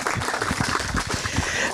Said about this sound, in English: So let's clap for ourselves.